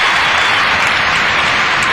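Audience at a tennis exhibition match in an arena applauding, a dense, steady wash of loud clapping throughout without pause.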